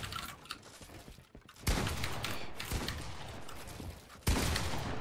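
Gunfire from a shooter video game rings out in loud, sharp bursts, with heavier volleys striking near 1.7 and 4.3 seconds over a busy, clattering backdrop.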